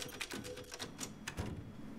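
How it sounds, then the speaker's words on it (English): Typewriter keys clacking in Resident Evil Village, a quick irregular run of sharp mechanical strikes up close, with faint game ambience underneath. "Oh, it's a typewriter!"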